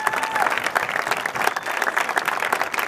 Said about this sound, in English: can everyone just give a round of applause for these Trojan legends that came to join us tonight?